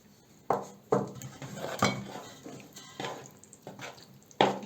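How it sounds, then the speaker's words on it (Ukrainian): Close clattering of a spoon against a bowl as homemade bread ingredients with salt are mixed, several sharp clinks and scrapes in an irregular rhythm. "гарненько це все перемішуємо"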